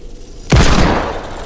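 A single loud hand cannon gunshot in the Fortnite video game, a sharp booming blast after a brief quiet moment, followed by a short decaying tail.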